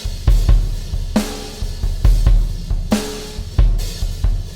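A Superior Drummer 3 drum kit mixed with bus compression, a limiter and graphic EQ, with punchy, dense kick and snare hits and crashing cymbals in a steady groove, loud and upfront.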